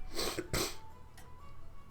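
Two sharp, loud coughs in quick succession, close by, then quiet room noise.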